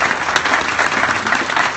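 Sustained audience applause at a congressional district transportation debate, a dense even wash of clapping throughout with no speech over it.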